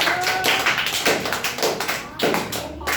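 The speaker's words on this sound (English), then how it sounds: "Well done, clap for Sony." An audience at a public speaking competition claps for a speaker, producing a steady run of overlapping claps at fairly close range with a brief lull before a final burst.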